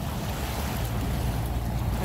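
Ocean surf washing onto a beach on a sunny day, a steady, full roar of waves with gusts of wind buffeting the microphone, continuous and fairly loud throughout.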